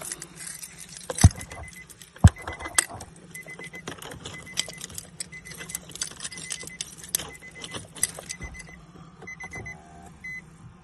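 Keys for an Infiniti G37 jangle and clink in bursts inside the car as they are inserted into the ignition, with sharp metallic knocks and a steady low cabin hum underneath.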